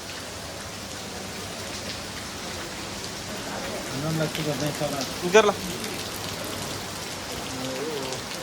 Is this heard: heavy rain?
yes